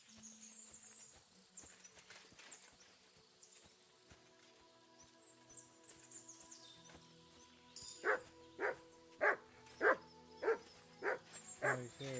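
Dog barking in the video game Kingdom Come Deliverance 2 during a walk through the woods, a run of about eight evenly spaced, loud barks near the end over a quiet ambient forest bed with insect buzz.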